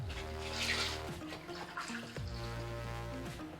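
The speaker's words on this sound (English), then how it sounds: "we're going to do a cup of warm water" Warm water is poured into a measuring cup for bread dough, a gurgling trickle whose tone shifts in steps as the cup fills. It stays fairly quiet, with no speech.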